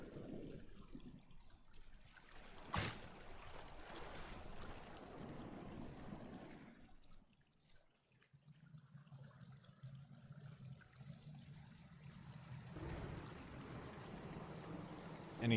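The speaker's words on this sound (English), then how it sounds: "Anything hidden behind the waterfall?" Rushing water from a waterfall in the fantasy action game Lord of the Rings: War in the North, a steady broadband splash with a sharp click partway through, briefly fading before the flow returns.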